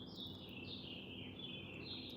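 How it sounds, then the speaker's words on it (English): Songbird chirping just outside a window indoors, a faint, continuous run of high repeated calls drifting over a low room hum, with no talking. "oh, do you hear that bird?"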